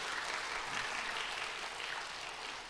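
Steady applause from a church congregation, dense and even throughout, moderately distant with no voices standing out.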